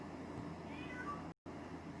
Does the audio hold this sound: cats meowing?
yes